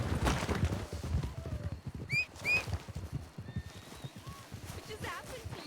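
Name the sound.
horse neighing and hooves in video game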